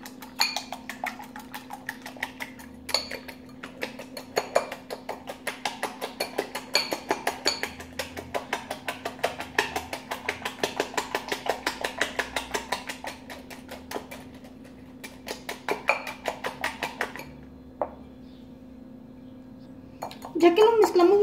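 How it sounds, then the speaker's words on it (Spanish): Eggs and baking powder beaten in a bowl with a utensil, a fast steady clinking and scraping rhythm that runs close and continuous with brief pauses, while milk bread without flour is being made. "Ya que lo mezclamos durante un minuto"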